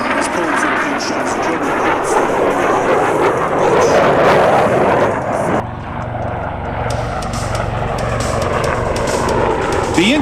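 Huey and Cobra helicopters fly past at a military airshow, a loud, broad rotor and engine roar that swells and then recedes, with a commentator's voice over the noise.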